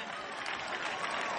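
Audience applause at a performance, a brief burst of steady, dense clapping from a crowd throughout.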